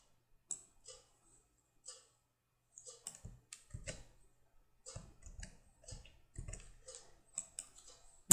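Code being typed on a computer keyboard, bursts of quick clicky keystrokes with short pauses between them, up close and quiet.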